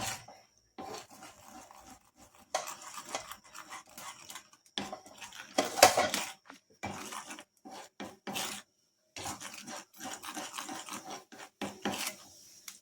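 Scraping and rasping strokes of a spoon stirring a thickening natural hair dye mixture in a pot on a stove, coming in irregular bursts with short pauses, close and moderately loud, with no talking.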